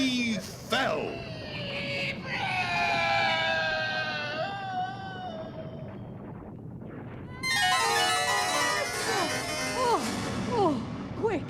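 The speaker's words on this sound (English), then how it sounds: "then with a shriek he fell" A falling creature lets out a long, wavering shriek in a radio drama of The Lord of the Rings, loud and high, with a second burst of shrill cries after a brief lull.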